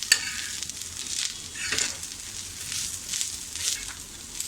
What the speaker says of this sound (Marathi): हे सुद्धा आपण व्यवस्थित असं परतून घेऊया